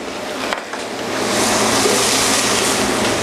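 Onions, carrots and celery sauté in turkey fat in a pan, giving a steady broad hiss that swells after a brief clatter and carries on alone, close and fairly loud.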